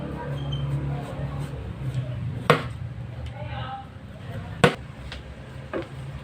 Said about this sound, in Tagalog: So, slice lang natin ng ganyan.